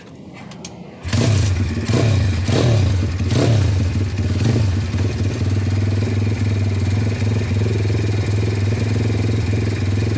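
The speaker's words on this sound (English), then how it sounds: "I'm going to see how it restarts by kickstarting it instead of using the starter." An Orion RXB 150 pit bike with a Mikuni carburetor is kickstarted and catches after a second. A few loud revs settle into a steady, close, throbbing idle that runs alone to the end.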